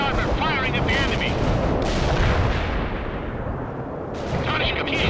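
Heavy armor tanks fire on enemy targets in the World in Conflict war game, a dense, continuous barrage of booming cannon blasts and rumbling explosions with a voice briefly audible beneath the roar.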